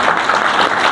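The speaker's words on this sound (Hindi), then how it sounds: "अच्छा ताली बजाइए भैया इनके लिए।" Steady applause fills the whole short stretch, a dense, loud clapping from a gathered crowd at a local gathering, with no gaps or voices over it.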